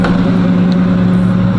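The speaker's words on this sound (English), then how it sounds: "this car sound good. It's a little loud, but it sound really good." A Box Chevy's engine runs loud and close, a steady deep idle rumble with a strong low hum throughout the short stretch.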